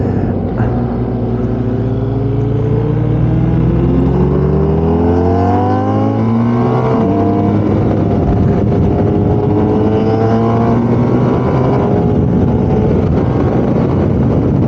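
Kawasaki Z900RS motorcycle with a dual exhaust roaring loudly through repeated rising and falling revs as it is ridden, close and continuous, with engine note sweeping up through the gears.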